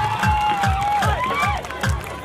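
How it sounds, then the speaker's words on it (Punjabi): A crowd claps along at a live Punjabi music show, a steady rhythmic clapping over a thumping beat and a sustained singing voice. "ਤਾੜੀ ਲਾ ਕੇ ਦੱਬ ਕੇ"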